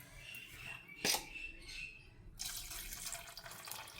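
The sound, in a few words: pouring thick first coconut milk into cooked mutton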